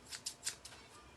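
Scissors snip through hair while thinning out fringe bangs in a home haircut, four or five crisp, quick cuts in an irregular rhythm, close and fairly quiet with no talking.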